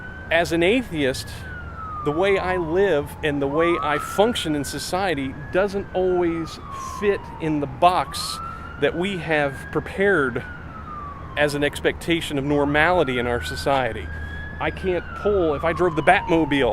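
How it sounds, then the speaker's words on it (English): A wailing siren rises and falls repeatedly throughout, loud and close, while someone talks over it in a hospital parking garage. "I apologize for the siren, I am on the parking garage of a hospital."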